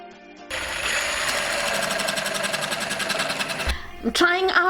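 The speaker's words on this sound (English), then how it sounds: "I'm trying out the AEG cordless jigsaw, and baby, she's powerful." An AEG cordless jigsaw cuts with a fast, buzzing, reciprocating whine for about three seconds, close and loud, before stopping. A voice follows as someone speaks.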